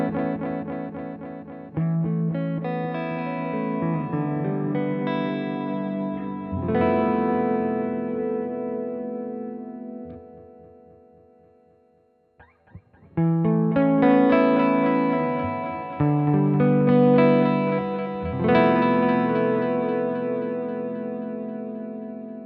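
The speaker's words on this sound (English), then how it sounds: "if we go towards our right, we'll have a brighter delay sound. And if we go towards our left, we'll have a darker sound" Guitar played through a delay effect as the tone knob is swept from bright to dark, sustained chords with trailing echoes, a brief fade to near silence midway, then more chords with repeats, close and with no talking.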